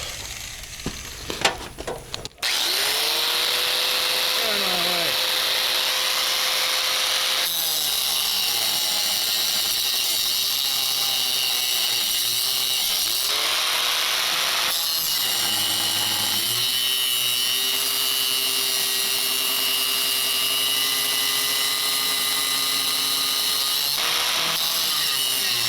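After a few clunks, a power grinder roars up and bites into a 4WD Daytona steering shaft. A loud, continuous whine rises and falls in pitch as the load changes, running for over twenty seconds.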